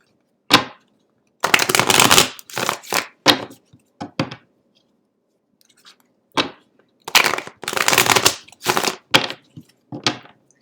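Tarot cards being shuffled by hand in clustered bursts of crisp riffling and slapping, with short pauses between rounds and no talking over them.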